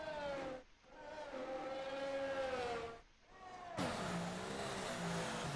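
A race car in a racing video game, its engine droning at a steady pitch, dipping twice as it brakes hard before flaring back into a harsh, louder rev as it exits a left turn, with no talking.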